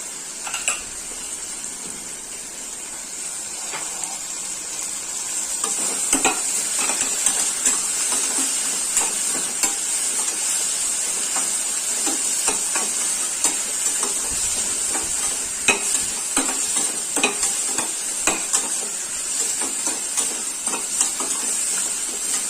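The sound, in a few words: onion and tomato sautéing in a pan for chicken gravy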